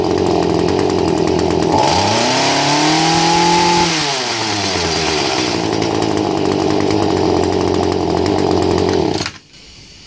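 An Echo hedge clipper's small two-stroke engine runs loud and close after a carburetor rebuild, revving up and settling back to a steady buzz before cutting off abruptly near the end.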